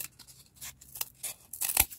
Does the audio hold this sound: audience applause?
no